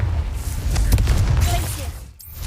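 A Confringo blasting spell in the Hogwarts Legacy video game goes off as a loud, rumbling fiery blast with a deep low-end boom that rolls on for about two seconds before cutting out abruptly.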